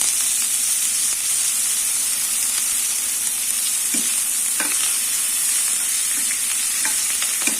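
Tempering of asafoetida, curry leaves and coriander leaves sizzles in hot oil with the stove switched off, a steady hiss carrying soft stirring clicks and a few sharper pops, close and continuous, no voices.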